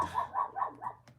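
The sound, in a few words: dogs barking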